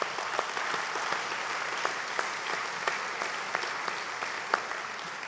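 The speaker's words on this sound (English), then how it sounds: "Please give yourselves a round of applause." A conference audience gives a sustained round of applause, many hands clapping together in a continuous, fairly distant wash with occasional sharper claps. It holds an even level throughout.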